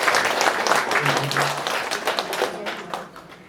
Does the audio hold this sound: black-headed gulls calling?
no